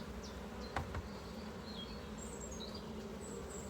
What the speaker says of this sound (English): the bees are relatively restless and run around a lot